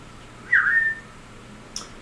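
A person whistles a short rising-and-falling tune, clear and fairly close, sustained for about half a second, followed by a brief higher chirp a moment later over a quiet background.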